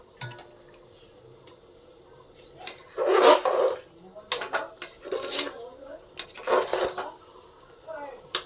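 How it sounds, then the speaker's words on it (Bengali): Dalia and lentils with spices being stirred in a cooking pot, with a spoon scraping and clanking against the metal in uneven bursts, some louder strokes near the mic, and quieter stretches between them. "এবার দিয়ে দিয়েছি ডালিয়া আর ডালটা, এটা দিয়ে একটু নেড়ে চেড়ে তারপরে হচ্ছে জলটা দিয়ে দেবো"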